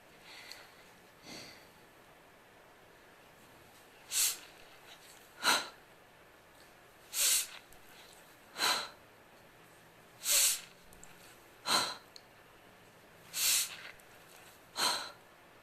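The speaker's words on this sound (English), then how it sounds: "this time, instead of inhaling on the way up, you're going to exhale on the way up" Forceful breathy exhales during kettlebell snatches, about eight sharp bursts at a steady rhythm a second or two apart, close and fairly loud over a quiet background, with no talking.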